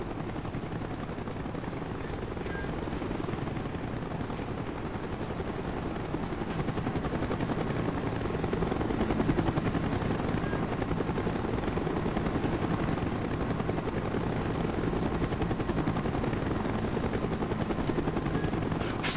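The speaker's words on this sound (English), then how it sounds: "Chopper's inbound!" Helicopter in Call of Duty: Black Ops, a steady, loud rotor drone with broadband whirring that swells slightly as it draws nearer, filling the whole stretch without spoken voices.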